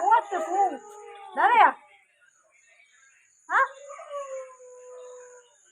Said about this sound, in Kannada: ಎಲ್ಲ ಕಡೆಯ ನಾಯಿಗಳು ಒಂದೇ ಸಮಾನೆ ಬೊಬ್ಬೆ ಆಗ್ತಾ ಉಂಟು